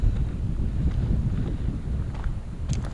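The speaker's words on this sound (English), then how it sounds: "All of the compositions that I'm finding are either inaccessible or in places where the wind is just crazy." Strong wind blows outdoors and buffets the microphone with a steady low rumble and gusty roar throughout.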